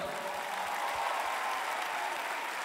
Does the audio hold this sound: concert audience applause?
yes